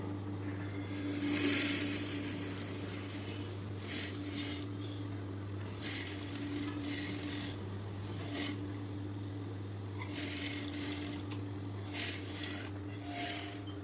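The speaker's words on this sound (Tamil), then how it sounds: "அந்த கேன்வாஸ் மேலே தான் தைக்கிறேன்." A sewing machine stitching a scallop blouse on canvas, quiet mechanical whirring in several short runs separated by pauses, with a steady low hum underneath.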